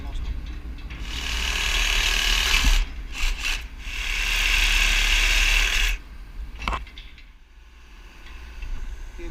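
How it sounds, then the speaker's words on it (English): Winch lowering a stadium floodlight, a close rasping, grinding mechanical whir that runs in bursts and pauses, with an underlying low rumble and voices talking nearby. "Winch down."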